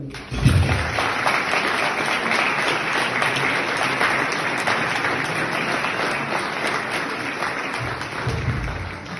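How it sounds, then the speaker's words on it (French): Sustained, dense applause at a French village mayor's New Year address honoring a retiring local doctor. The clapping swells in quickly and holds loud and even for the whole stretch, with no voices over it. "Je crois qu'on peut l'applaudir."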